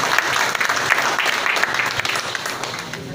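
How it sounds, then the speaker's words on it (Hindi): Lively applause from an audience at a Delhi Congress party workshop, a dense sustained patter of many hands clapping that holds steady, then eases slightly toward the end. "जोरदार तालियां।"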